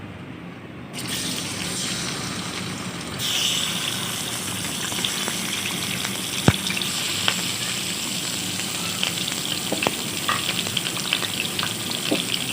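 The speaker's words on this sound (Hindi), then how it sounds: "ऑयल को गर्म होने देंगे। 500 ग्राम चिकन डालेंगे।" 500 grams of chicken goes into a kadai of hot oil for chicken karahi, setting off a loud sizzling hiss that holds steady, with occasional clinks and scrapes of a spoon stirring the pot.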